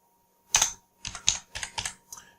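Several quick keystrokes on a computer keyboard, a single tap followed by a short run of crisp, close clicks, entering a value into CAD software.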